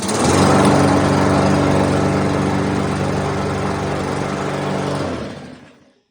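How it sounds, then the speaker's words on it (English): Briggs and Stratton 550ex lawn mower engine running loud and close with a steady buzzing drone, then cutting off and fading out near the end. "now we're going to give it a start"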